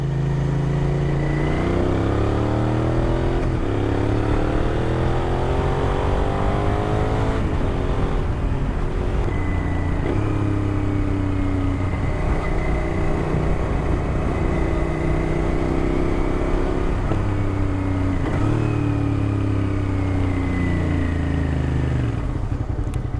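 A Suzuki SV650 motorcycle engine revs hard and close, climbing in pitch through several repeated surges and dropping back between them for over twenty seconds, with no talking.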